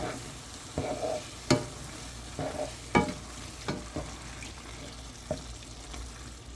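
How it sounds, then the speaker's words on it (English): Goulash with thick Roma tomatoes being stirred in a pot: a soft simmering bubble underneath, with a spoon scraping and clacking against the pot in irregular strokes about once a second, close and fairly quiet, no voices. "Let's stir that around now."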